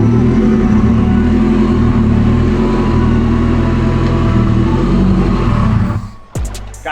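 A turbocharged front-wheel-drive Acura RSX on a dyno holds a loud, sustained high-rev engine roar during a 4th-gear burnout, then abruptly drops off near the end with a few short bursts.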